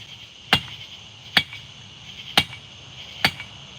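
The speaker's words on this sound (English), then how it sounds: "I'm going to be using this rounded edge of my anvil, at a pretty steep angle, and rotating it at 90 degrees after every heat." Hot steel is hammered on the rounded edge of an anvil: four sharp, ringing metallic strikes spaced about a second apart, clear and close against a quiet background.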